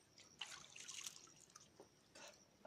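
River water, from the Brahmaputra in Assam, dripping and splashing softly as someone washes their face on the bank, faint and close with scattered small trickles.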